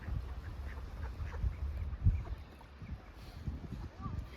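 Ducks on a partly thawed pond in Ukhta, Komi Republic, in November, with faint scattered quacks mixed into outdoor noise and low background chatter.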